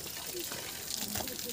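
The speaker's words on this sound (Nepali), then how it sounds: "हाम्रो यहाँ पानी खाने धारा पनि छ साथी।" Water runs steadily from a park drinking-water tap, a constant rushing flow heard under a nearby voice talking.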